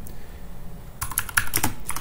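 Someone types a short command on a computer keyboard, a quick burst of close, crisp key clicks that starts after a second of near silence and runs to the end, with no talking.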